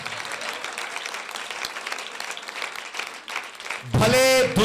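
Applause bursts out loudly from a church congregation near the end, after several seconds of reverberant preaching.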